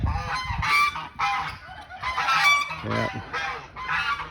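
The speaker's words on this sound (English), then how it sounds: "There's the Muscovies again. These are meat ducks" Muscovy meat ducks on a farm give repeated loud, honking calls in bursts across the whole stretch, close by, with a brief spoken word in the middle.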